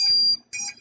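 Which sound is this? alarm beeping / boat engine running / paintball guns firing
alarm beeping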